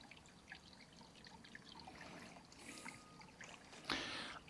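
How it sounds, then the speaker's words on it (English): Stream water running through rural off-grid land in Central Portugal, a faint, continuous trickle and dribble heard from nearby in quiet open air, with a few soft bumps and a louder splash at the end. "Here it's possible, listen a little, the water run."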